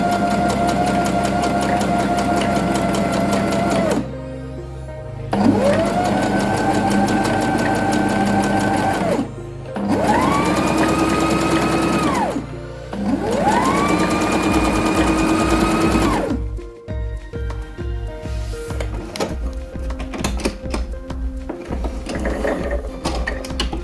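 A sewing machine stitches a seam on boxer shorts in loud, steady whirring bursts: four long runs of several seconds each separated by brief pauses, followed by irregular mechanical clicks and ratcheting as it slows and stops.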